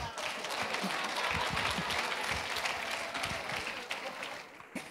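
A comedy show audience breaks into sustained, close applause that holds steady for several seconds, then thins out near the end.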